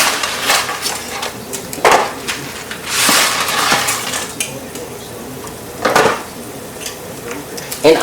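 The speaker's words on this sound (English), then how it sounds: "dropping my pasta in there." Linguine pasta dropped into a pot of boiling water and stirred, with clattering pot and utensil knocks in a few short bursts over a steady bubbling background.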